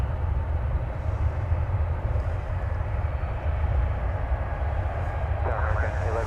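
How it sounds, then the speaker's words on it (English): Boeing 757 at DFW airport at night: a steady, loud broadband jet engine roar with deep rumble, continuous throughout, no talking. "that is one of our favorite aircraft here at Runway DFW, the 757"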